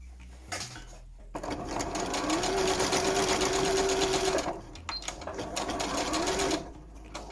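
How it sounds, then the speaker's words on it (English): A sewing machine stitches an elastic waistband on a loungewear set, running in a steady, fast mechanical whir for several seconds, pausing briefly, then running again, close and clear with no talking. "There was some live actual real-time sewing there for you."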